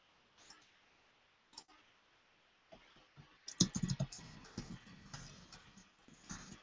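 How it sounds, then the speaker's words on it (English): Quiet, scattered clicks of computer keyboard keys, with a denser burst of rapid typing midway, close to the microphone and without talk. "Sorry if you can hear me tapping away on my keyboard."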